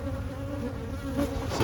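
Honey bees buzzing inside an opened hive split, a dense continuous close drone with a steady hum, no voices.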